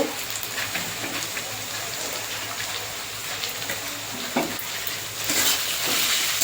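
Chicken gizzard masala with coriander and green chili paste frying in a pan, with a continuous wet sizzle and occasional stirring scrapes that grow louder and hiss more toward the end.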